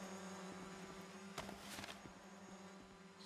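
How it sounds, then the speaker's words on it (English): Bees buzz in PUBG: Black Budget, a steady insect drone hanging in the background at low level, with faint footsteps and scattered game sounds over a quiet scene. "Got bees coming out my ears, mate, but no bee balm."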